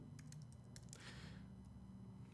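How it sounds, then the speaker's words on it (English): Light keyboard typing with a few scattered key clicks, then a short burst of rapid keystrokes, heard faintly over a steady low background hum. "I'm just going to start typing"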